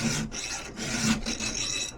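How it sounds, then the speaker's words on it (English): A hand file rasps across chainsaw chain teeth during sharpening, with three rhythmic strokes and short gaps between them. The scraping is close and fairly loud, with nothing else heard. "Turns out I definitely needed to get out a new file. Going through and sharpening now"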